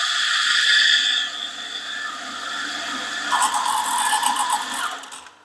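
A Mazzer S series electronic grinder runs steadily through a 19-gram dose of coffee beans, a sustained high whine that shifts to a grittier, rattling tone near the end before cutting off, with no talking.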